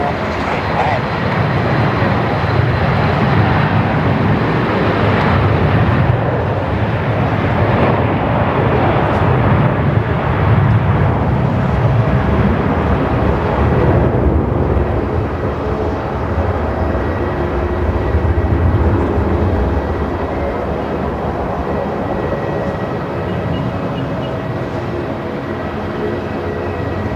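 Velocity flight 324 airliner landing on runway 34 at Melbourne Airport, a loud continuous roar and rumble holding steady throughout, with a voice talking over it.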